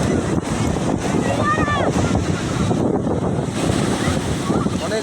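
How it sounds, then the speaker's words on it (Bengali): Big sea waves break on Puri beach in Odisha, a steady loud roar of surf with wind buffeting the microphone and a voice talking over the wash. "বড় একটা ঢেউ আবারও আসছে আবারও আসছে"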